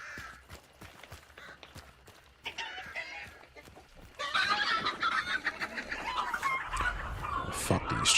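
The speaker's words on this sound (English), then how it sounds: "Fuck these chickens." Chickens clucking in the video game Hunt: Showdown, a flurry of close clucks and squawks that grows busier and louder in the second half, with no talk over it.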